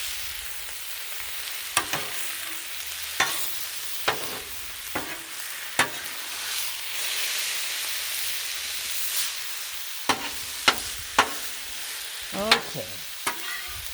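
Cheesesteak filling sizzles fast and hard on a hot griddle under a steady frying hiss, broken by sharp scrapes and taps of a spatula; someone briefly speaks.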